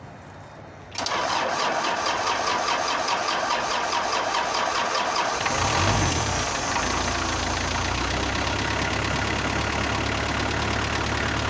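An Isuzu NPR diesel truck engine cranks briefly and catches, settling into a loud, steady, clattering diesel idle that runs on close to the microphone, with a slight surge in the middle and no talking.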